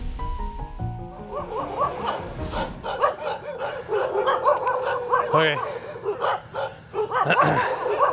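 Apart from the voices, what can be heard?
dogs barking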